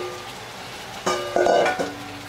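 Marinated chicken dropped into hot oil in a kadhai gives a short sizzling, crackling burst with a metallic stir or clink. It is fairly close, runs under a second, and sits against quiet kitchen background.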